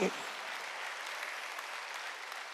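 A church congregation claps together during a Wednesday worship service, a dense, steady wash of applause that keeps going at the same level throughout.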